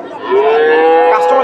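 Crossbred Holstein Friesian bull at a cattle market in Bogura gives one loud, close, drawn-out moo that rises and holds steady, with faint crowd noise behind.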